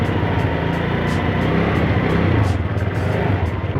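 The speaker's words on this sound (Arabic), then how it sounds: "ده كده صوت السكوتر، بصوا اسمعوا." A SYM scooter engine idling nearby, a steady smooth, soft motor drone with a continuous even rumble and no talking over it.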